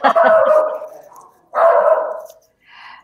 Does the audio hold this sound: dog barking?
yes